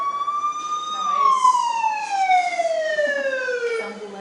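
Ambulance siren heard through a played video, a loud wailing tone sliding up then slowly falling in pitch, close and continuous with faint background noise.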